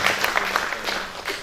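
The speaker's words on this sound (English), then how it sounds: "Round of applause, I think." Conference audience applauds after a presentation at a funeral services association gathering in Kenya; steady, dense clapping from a crowd fills the short moment, fairly near, with no one speaking over it.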